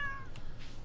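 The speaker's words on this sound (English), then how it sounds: "Hello, kitty." Cat in Stardew Valley giving a single short, clear meow, close and moderately loud over quiet background sound.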